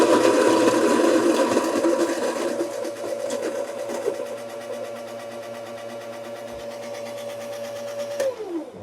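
A power grinder whirs with a loud, steady motorized drone that holds for several seconds, then spins down and cuts off near the end.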